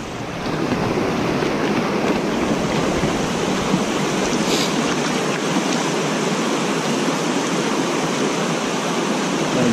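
Water rushing over a park spillway into a big pool, a steady, loud broadband roar that holds unbroken throughout, close by with no voices.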